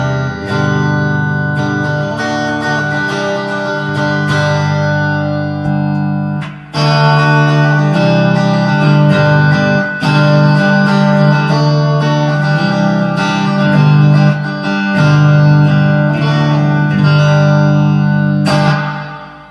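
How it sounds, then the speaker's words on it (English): Electric guitar played through a Fender Mustang amp on its '65 Twin Reverb model, loud sustained chords and picked notes with reverb and some grit, ringing continuously with brief pauses and restrikes. "This would be the 65 twin reverb"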